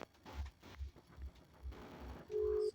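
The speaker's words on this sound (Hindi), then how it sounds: "यहाँ पे फोन लगाया जा रहा है लेकिन चंदन चंचल की तरफ से कोई रिस्पांस नहीं हो रहा है।" A phone call goes unanswered, with soft repeated ringback pulses and then a steady electronic tone near the end, faint and with no talk.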